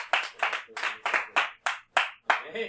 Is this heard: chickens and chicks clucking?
no